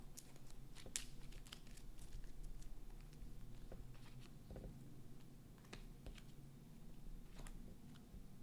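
Game cards from the Aliens: Another Glorious Day in the Corps board game being shuffled, a quiet, steady patter of riffling and sliding cards with crisp little ticks, close by and with no talking.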